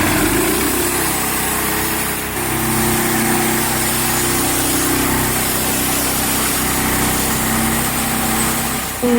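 A chainsaw at a sawmill competition revs steadily while cutting through a log, a loud continuous engine drone with a brief dip in pitch partway through before the final cut.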